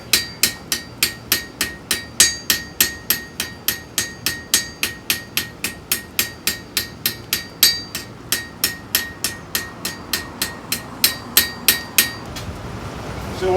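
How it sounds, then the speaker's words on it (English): Steady, rhythmic taps of a ball peen hammer on metal in a blacksmith shop, texturing the surface, roughly three blows per second, sharp and close, continuing alone without talk. "Now I'm going to use my ball peen, just tapping it."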